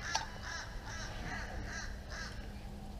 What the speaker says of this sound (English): Sounds like the crow is laughing.